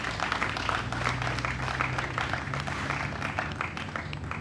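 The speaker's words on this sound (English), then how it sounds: "I think they deserve another round of applause." An audience gives a round of applause for long-serving honorees at a Guyana and Caribbean vaccination launch event, with steady sustained clapping from many hands and a low background hum.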